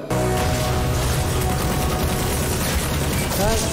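Dense, continuous bursts of gunfire in an action scene from the Hindi God Father movie trailer, loud and sustained under a music score.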